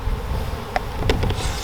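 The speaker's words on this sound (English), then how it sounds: "So we're trying to get a half cup of bees, which should approximate about 300 of them," Honey bees buzz close by while being scooped into a half cup, with a few brief, sharp buzzes rising over a low hum.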